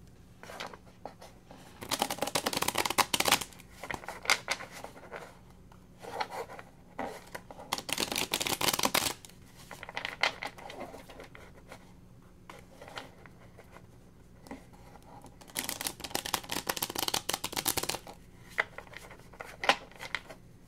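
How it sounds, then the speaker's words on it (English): Zerner-Farber tarot cards being shuffled by hand, heard as repeated crisp riffling bursts of a few seconds each with quieter rubbing and shuffling between them, close and fairly clear, with no talking. "I'm just going to shuffle a couple cards and see what comes out"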